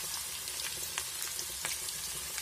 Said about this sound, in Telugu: ఆవాలు అయిపోయాయి, ఎర్రగడ్డలు వేస్తున్నా.